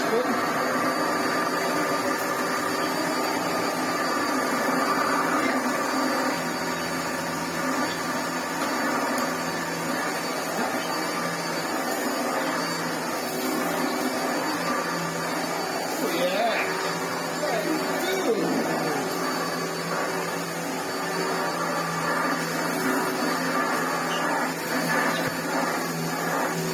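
A Hitachi vacuum cleaner runs with its brush roll spinning, giving a steady, loud airflow roar and motor hum that holds evenly throughout, with faint background sounds but no clear talk.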